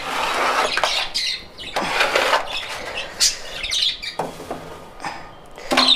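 Pet lovebirds chirp in bursts of bright, rapid calls near at hand, with short squeaky tweets between louder flurries of activity.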